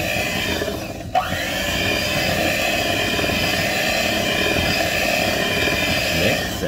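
An electric mixer whirs steadily as it beats lemon cake batter in a home kitchen, the loud, even drone broken only by a brief knock just after the first second.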